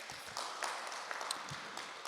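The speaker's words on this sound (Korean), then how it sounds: "우리 하나님 앞에 영광의 박수 드리겠습니다." Soft, distant clapping from a church congregation during a worship service, a steady patter of hands heard faintly throughout.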